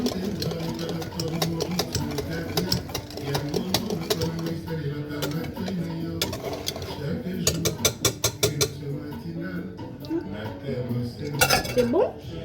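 Crepe batter being mixed in a bowl, with steady clinking and scraping of a utensil against the bowl in a quick, continuous rhythm, close and moderately quiet, with a few sharper clatters toward the end.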